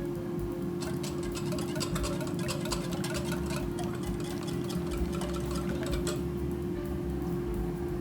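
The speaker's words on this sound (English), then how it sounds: "I'm just gonna be preheating our air fryer." An air fryer ticks steadily as it preheats, a fast run of light clicks over a constant low electrical hum. The ticking stops after about six seconds, leaving only the hum, quiet and close.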